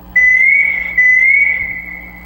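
A single high, pure whistle sound sample holds steady, briefly retriggered once, filtered, with a smooth sustained pitch and a faint reverb tail.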